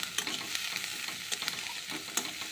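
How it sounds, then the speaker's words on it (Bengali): Sliced onion, nigella seeds and green chilies fry in oil in a wok with a steady, fairly quiet crackling sizzle, broken by scattered clicks and scrapes from stirring. "কড়াই তেল দিয়ে কালো জিরে কাঁচা লঙ্কা আর পেঁয়াজ কেটে দিয়ে দিয়েছি"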